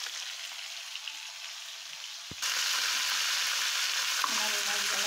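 Fish pieces going into oil for a light fry: a quiet pan first, then an abrupt loud hiss that jumps up and holds as a steady, close sizzle.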